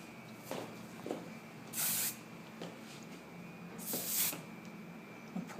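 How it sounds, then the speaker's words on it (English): Hairspray comes out in two short, soft hissing bursts from a can, used while styling a short hair updo, in an otherwise quiet room. "put hairspray on your fingertips"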